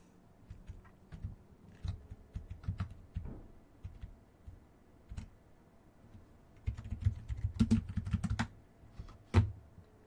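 Typing on a computer keyboard during Minecraft play, with irregular bursts of close key clacks that grow denser and louder toward the end, with no talking.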